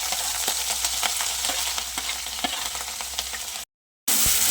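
Sliced green chillies hit hot oil already crackling with mustard seeds, cumin and asafoetida, making a loud, close, continuous sizzle with sharp pops; it cuts to silence briefly, then the frying resumes.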